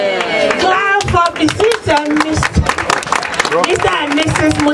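Wedding guests clap for newlyweds, sharp rhythmic handclaps mixed with singing or chanting voices and music, loud and close.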